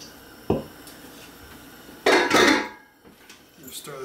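Stirring roux into a pot of cheese sauce for a Thanksgiving side dish, with a sharp utensil knock on the pot followed by a louder scraping clatter, then quieter stirring noises.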